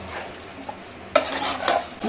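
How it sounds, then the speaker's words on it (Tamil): A ladle scrapes and stirs through a thick, sizzling meat curry in a pot, with a few clinks and a faint frying hiss underneath. "சேர்த்துட்டு கரண்டியை வச்சு நல்லா கிண்டி விட்டுருவோம்"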